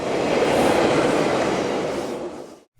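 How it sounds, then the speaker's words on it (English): An ACE commuter train runs on rails crossing the Guadalupe River near Alviso, a loud, close, steady rushing roar of wheels and cars that fades quickly away at the end. "The train crosses Guadalupe River as it leaves Alviso and heads south"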